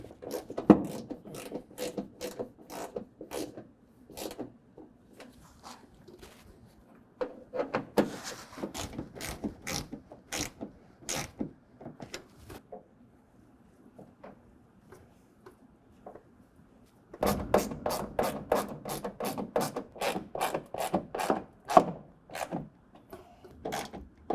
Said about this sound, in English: this screw up here, we're gonna use a Phillips head screwdriver